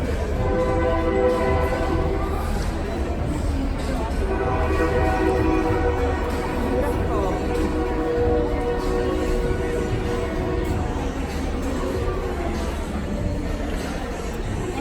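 A loud, steady rumble of a train passing close by in Waco, Texas, with a sustained horn, the noise holding constant throughout with faint crowd chatter underneath.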